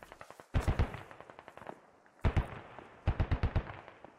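Heavy machine gun fire in the military shooter game Squad, loud bursts of rapid shots in three clusters separated by short gaps, with single shots around them.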